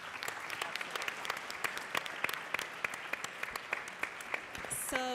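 Steady audience applause for a conference panel, dense continuous clapping throughout at moderate level, with a brief tonal chime near the end.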